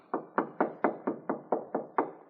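Nine steady knocks on a door at an even, unhurried pace, close and fairly loud, used as a radio drama sound effect for a 2 a.m. visit, with no voices.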